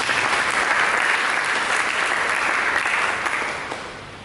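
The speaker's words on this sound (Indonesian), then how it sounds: "Berikan tepuk tangan bagi Yesus." Dense, sustained congregational applause for Jesus during a church sermon, loud and even from a large crowd, fading toward the end.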